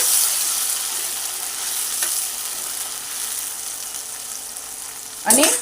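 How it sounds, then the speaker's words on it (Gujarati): Tomatoes are fried with onions in a pan. A steady close sizzle of frying runs throughout, with a louder burst of stirring and spattering near the end. "હવે હું આની અંદર ટમેટા એડ કરી દઈશ એને પણ સારી રીતે મિક્સ કરી દેવાના છે"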